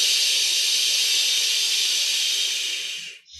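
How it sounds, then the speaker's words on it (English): A long, steady 'shh' exhale made as part of a breathing exercise, a loud, sustained hiss that holds evenly for about three seconds before tapering off and stopping. "If you notice as you say the shh sound, your belly goes inwards towards the spine."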